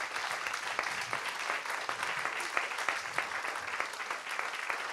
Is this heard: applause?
yes